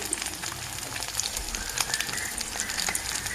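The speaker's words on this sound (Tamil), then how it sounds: "এখানে ভাজছি" Beaten eggs with salt and turmeric fry in a pan, giving a continuous crackling sizzle with small popping spatters scattered throughout at moderate, close volume.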